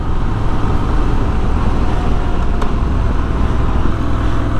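Triumph Scrambler 1200 motorcycle cruising in third gear, its big engine giving a loud, constant rumble mixed with heavy wind roar, steady with no gear changes.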